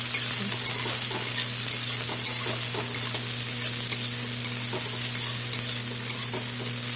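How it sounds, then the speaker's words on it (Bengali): Onion, green chili, ginger and garlic sizzle steadily in hot oil in a pan, a loud continuous frying hiss with occasional stirring scrapes and no talking. "এখন দিয়ে দিলাম লঙ্কা, আদা, দিয়ে দিলাম রসুন, সব একসাথে এখন ভাজা ভাজা করব"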